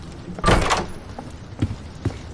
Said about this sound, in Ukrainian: Окей, давай бери ключ і будемо відкривати двері.